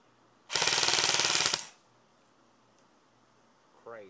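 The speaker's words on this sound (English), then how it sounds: "And here we go, fully automatic." An airsoft gun fires a fully automatic burst for about a second on a 9.6 V Firefox 2300 mAh battery, a rapid, loud, close buzz of many shots, then quiet with a voice starting at the end.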